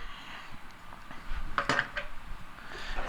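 A spoon stirs guacamole with garlic in a bowl, scraping and clinking against the dish in a short run of mixing strokes, with one sharper clink near the middle.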